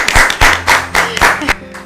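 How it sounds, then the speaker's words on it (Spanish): A crowd applauding at a Spanish-language church testimony service, with several bursts of clapping that swell and fade in quick succession, close and fairly loud, and no talk over them. "Eso merece un aplauso."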